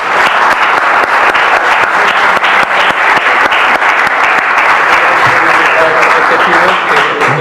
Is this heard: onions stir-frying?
no